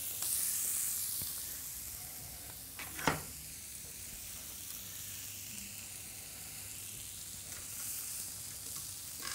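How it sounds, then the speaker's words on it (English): Breadcrumbs and leeks fry in a pan with a steady, soft sizzle throughout, plus a brief louder crackle or stir near the three-second mark; no one speaks. "My breadcrumbs are just frying really nicely."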